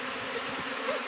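Honey bees from a swarm buzzing close by, a steady layered hum with faint individual insects passing, fairly quiet and continuous with no voices.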